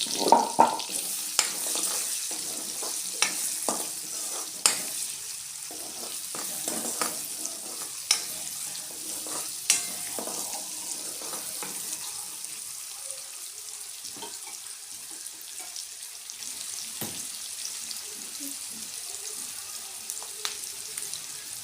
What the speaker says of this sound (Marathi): आता या पनीर भाजलेल्या तेलात आपण हा कांदा घालून घेऊया, बारीक चिरलेला कांदा.